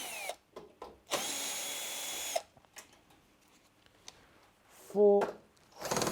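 A power drill backs screws out of the side panel of an LG tumble dryer, close and loud in short whirring bursts separated by clicks, handling noises and quiet gaps, with a voice speaking briefly.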